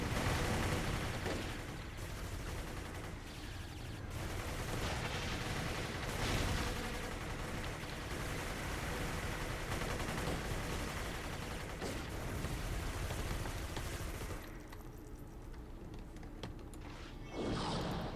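Sustained battle din in the strategy game Company of Heroes, a continuous wash of rifle and machine-gun fire with rumbling explosions, moderately loud and unbroken for well over a dozen seconds.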